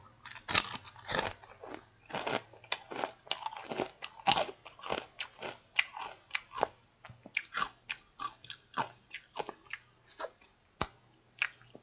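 Balut duck embryo and meat-filled chicharon eaten up close, with a long run of sharp crisp bites and crunchy chews coming in quick, irregular bursts with no speech.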